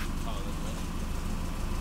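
A car engine idles quietly and steadily after a motor swap, a smooth low hum close by with faint broadband noise and no sharp revving.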